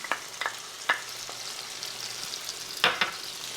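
Harissa paste and diced tomatoes being stirred in a sizzling pan, with a soft steady sizzle broken by several sharp scraping strokes of a utensil, close and without talk.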